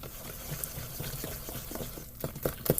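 Plain water is poured into a mayonnaise cornbread batter with a gurgling, splashing trickle that grows choppier and louder toward the end, close by and heard alone.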